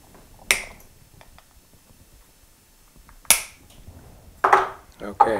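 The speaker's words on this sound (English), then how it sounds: "cut off the heads with a pair of diagonals" Sharp snips of diagonal cutters clipping the heads off number 19 wire brads driven into a wooden toy, three crisp separate clicks spaced a few seconds apart, close and loud over a quiet room, with brief talk near the end.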